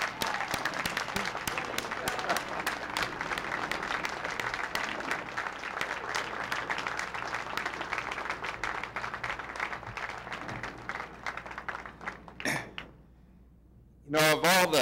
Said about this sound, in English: let's give Wilma a big round of applause, huh? Stand up and give Wilma what she deserves.